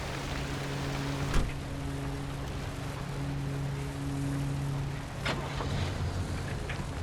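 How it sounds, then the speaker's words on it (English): Rain falling in the Pacific Drive video game, set in the Pacific Northwest, a steady hiss of drops with a low vehicle hum beneath and a few sharp clicks. "here comes the rain"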